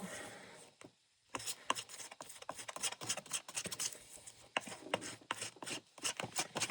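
Scraping excess glue off pages of a handmade junk journal, a dense run of dry rasping, rubbing strokes close up, with a brief pause near the start.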